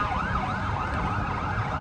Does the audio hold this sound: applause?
no